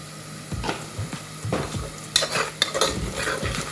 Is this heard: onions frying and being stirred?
yes